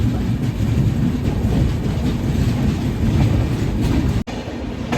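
A train arriving at a station rumbles steadily and loudly nearby, wheels clattering on the rails in a continuous heavy roar.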